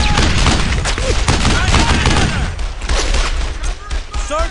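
Rapid, dense gunfire in the video game Brothers In Arms: Earned In Blood. Loud overlapping shots and bursts come with thuds and booms, and a voice speaks over the firing.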